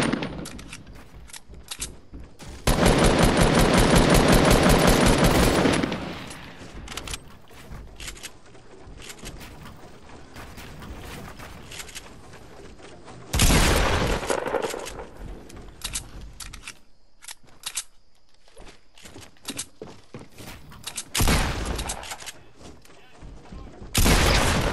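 Bursts of rapid gunfire from the video game Fortnite come in three loud volleys, with long sustained rattles between quieter stretches of scattered shots and clicks.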